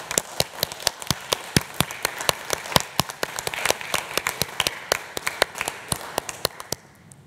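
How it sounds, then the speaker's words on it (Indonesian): Church congregation clapping for a newly installed church board, a run of sharp, distinct handclaps, fairly sparse and close, heard alone for about seven seconds. "Mari kita sambut dengan tepuk tangan."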